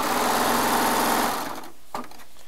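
A serger sewing machine stitching charm squares runs in a loud, steady whirring buzz, then slows and stops, leaving a brief soft clack in the quiet.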